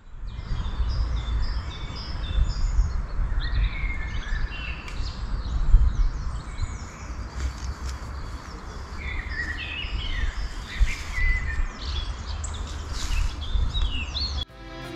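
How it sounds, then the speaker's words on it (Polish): Several birds chirp and sing continuously outdoors near a quarry in Zabierzów, near Kraków, bright calls scattered over a steady low rumble of ambient noise. "może będzie można usłyszeć przepięknie śpiewające ptaki"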